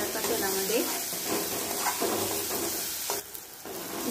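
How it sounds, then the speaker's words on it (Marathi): Onion and tomato sauté in oil with a little salt for chole masala, a steady close sizzle with intermittent stirring scrapes and a spatula clink, and faint talk in the background. "छान असं आपल्याला परतून घ्यायचं आहे कांदा टोमॅटो व्यवस्थित असा तेलामध्ये"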